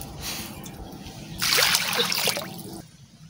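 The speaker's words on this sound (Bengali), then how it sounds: "এবার একটু জল দিয়ে দিচ্ছি।" Water is poured into a hot wok before jackfruit goes in for a jackfruit biryani, giving a bright splashing gush for about a second and a half over a low background hum, then tapering off.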